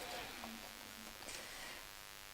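A sewing machine stitching a quilt, giving a faint, steady motor buzz that runs under a quiet voice for a couple of seconds.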